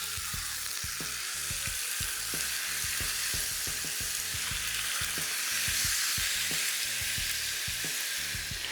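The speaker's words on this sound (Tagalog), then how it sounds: "Lagay ulit tayo ng mantika at ituloy natin yung pagluto ulit." Marinated beef for bistek frying in hot oil makes a constant, dense sizzle that stays fairly quiet and even throughout, with a faint crackle underneath.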